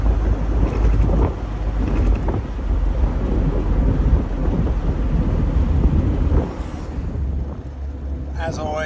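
A 1954 Corvette with a straight six engine cruises along, its low engine rumble mixed with heavy wind buffeting and road noise throughout, loud and close, with a brief metallic ring near the end.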